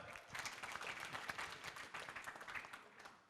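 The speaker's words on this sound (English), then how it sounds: "Big round of applause, ladies and gentlemen." Audience applause at a university student debate in Fiji, dense clapping from a crowd heard fairly quietly and steadily for a few seconds before fading slightly at the end.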